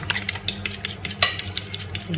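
Close, irregular metallic clinks and scrapes of a spoon stirring a spice mixture in a bowl, repeating lightly and unevenly over a quiet background.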